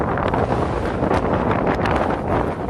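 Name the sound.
strong wind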